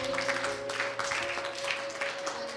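An audience in a studio program applauds with sustained, dense clapping at moderate volume, heard over a steady background tone.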